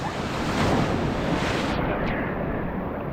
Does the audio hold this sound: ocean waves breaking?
yes